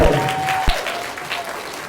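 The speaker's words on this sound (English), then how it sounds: "I want you to give her a round of applause." Brief burst of audience clapping at a 4th and 5th grade school pinning ceremony, a short dense patter from a hall crowd that fades quickly within two seconds.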